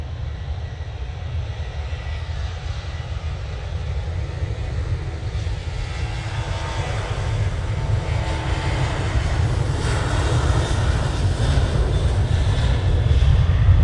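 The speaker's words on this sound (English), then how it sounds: "Ryanair 737" Ryanair Boeing 737 jet at an airport, its engines roaring steadily and growing gradually louder over the span, a broad continuous rumble with no talk.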